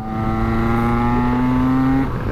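A Derbi motorcycle engine holds a loud, steady hum close by, its pitch creeping slightly upward for about two seconds before easing off.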